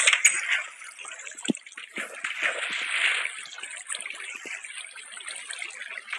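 Water flowing in Minecraft, a soft, uneven trickling and gurgling that swells and fades, with small splashy bursts, fairly faint and with no voices.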